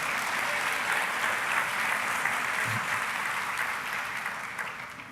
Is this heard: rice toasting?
no